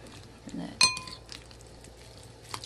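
A utensil strikes a bowl with one sharp, ringing clink, then softer scrapes follow as chicken breast balls and tomato sauce are mixed together.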